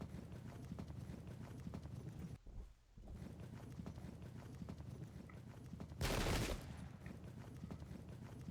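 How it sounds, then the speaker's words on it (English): Cavalry hooves clattering in a steady galloping rhythm during a Pike and Shot multiplayer battle at Saint Gotthard 1664, with scattered distant musket shots and a brief louder burst near the end. "then my cavalry can charge"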